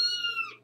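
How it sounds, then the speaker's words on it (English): Kittens meow close by in one short, high-pitched, fairly quiet cry that fades out quickly. "Aw, kittens."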